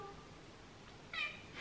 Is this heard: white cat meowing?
yes